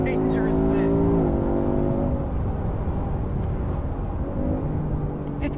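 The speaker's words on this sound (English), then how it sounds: "The hills are alive with the sound of Mustang." A 2019 Ford Mustang drives through French hills, its engine droning loud and close throughout, rising in a rev and then settling as the gearbox kicks down.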